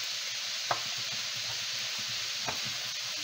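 Over a pound of kale wilting in a pan with sausage and garlic gives a steady, even sizzling hiss, broken by two faint clicks of a utensil.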